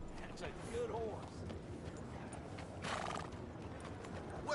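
A horse whinnies twice over a steady patter of hooves, sounding like sound effects from Red Dead Redemption 2.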